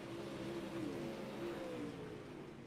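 A dirt modified race car laps Lanier National Speedway, its engine a faint, steady droning whine at a distance that holds through the lap and slowly fades.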